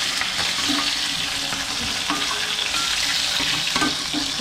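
Continuous crackling sizzle of snakehead fish frying in oil in a pan, steady and close, with occasional louder pops and scrapes.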